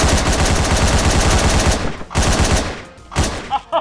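Rapid, loud bursts of gunfire from the top-down action game Hotline Miami, a dense machine-gun-like volley for about two seconds followed by a few shorter separate shots and bursts.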